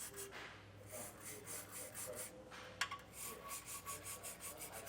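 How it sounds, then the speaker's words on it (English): A wire brush scrubs rhythmically back and forth on the threaded nuts for a Class III trailer hitch on a 2022 Honda Passport, quiet close rasping strokes with one brief sharp click partway through. "I have a wire brush here. We're just going to try and thoroughly clean these nuts."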